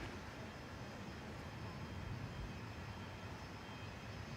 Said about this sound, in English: 787-9 coming in from Doha, A7BHK, just touching down on 23 right now